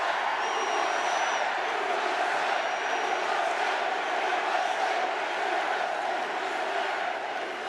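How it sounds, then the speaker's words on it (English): Large political rally crowd in Montana cheering and roaring continuously, a dense, loud wall of voices with a couple of whistles near the start, sustained throughout. "Is that a big crowd?"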